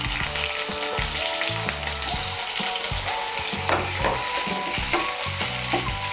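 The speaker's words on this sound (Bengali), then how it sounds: "পেঁয়াজ কুচিটাকে লাল করে একটু ভেজে নেব" Chopped onion fries in a pan, a dense, loud, close sizzle with constant crackle and the rhythmic scrape of stirring throughout.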